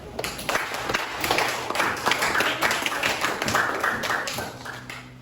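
Students in a classroom during an English lesson clap for a classmate's correct answer, a brisk, even burst of many hands lasting around five seconds, with no talk over it.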